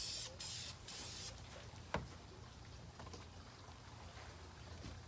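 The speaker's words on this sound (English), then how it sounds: "I didn't try to spray on the inside, just on the top." An aerosol can sprays paint onto a Chevy Blazer console in a few close hissing bursts at the start, then a quieter steady background hiss.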